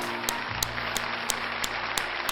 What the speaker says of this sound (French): Et on applaudit bien fort Camille pour l'explication de ce rolling shutter.